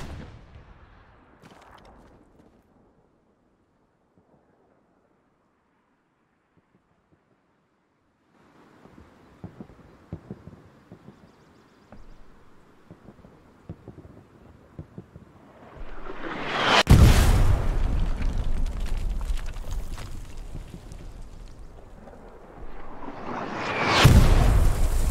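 Artillery shells land in Hell Let Loose: after a long quiet stretch with scattered distant rumbles, two heavy, booming impacts hit several seconds apart, each with a rolling, roaring tail.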